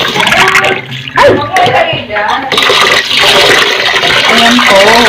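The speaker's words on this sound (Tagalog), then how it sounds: "Ito po yung ating glutinous rice. So, hugasan po natin po." Glutinous rice is washed by hand in water, with steady splashing, swishing and pouring that run throughout, while a person talks over it at points.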